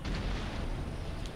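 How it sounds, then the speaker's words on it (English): Artillery firing shrapnel shot in the video game Empire Total War makes a dense, low rumbling boom that fills the short moment, distant and muffled with no distinct separate reports. "there goes the shrapnel shot"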